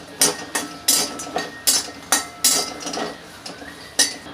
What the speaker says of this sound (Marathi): आता हे जायफळ आहे, त्याला मी तोडणार आहे आणि मग भाजणार आहे